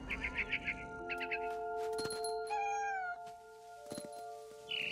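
A cat meows in the game What Remains of Edith Finch, with a quick series of short chirping trills followed by a longer, drawn-out meow, close and clear over a low ambient hum.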